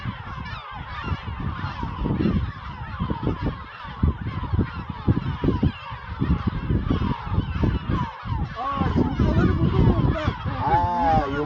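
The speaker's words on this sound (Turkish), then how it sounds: "Arkadaşlar şu anda martıların saldırısına uğramaya başladık." Seagulls on a deserted island give harsh, repeated calls close by, diving at intruders near their nests with eggs, a dense stream of overlapping cries that builds toward the end.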